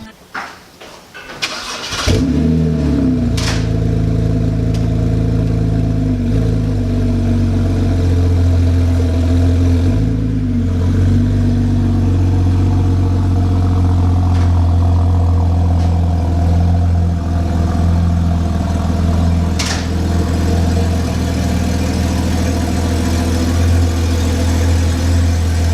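BMW 330i with a custom dual exhaust cranks briefly and fires up loudly, then settles into a steady deep idle that stays close and constant with slight rev fluctuations, no one speaking.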